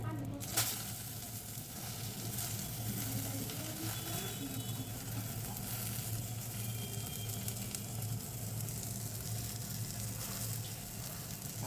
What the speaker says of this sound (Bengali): আমি এইভাবে ডিম একদম ভালো করে ভেজে, একটু পোড়া পোড়া করে ভেজে